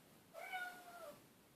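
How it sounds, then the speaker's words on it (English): A pet gives a single drawn-out meow indoors, clear and fairly close against a quiet room. "You don't hear the dog meowing."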